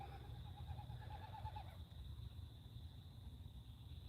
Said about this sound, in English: I don't see that bird. I just hear it all over the place.